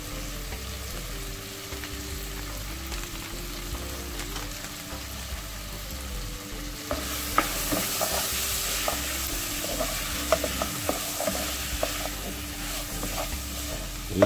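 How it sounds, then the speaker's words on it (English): Ackee seasoned with oregano spice fries in a pan for ackee pizza, a steady close sizzle with frequent scraping stir strokes that grow busier and brighter in the second half, no talking. "You just want to cook up this ackee for about 5 to 10 minutes, so all these flavors can be infused with the ackee."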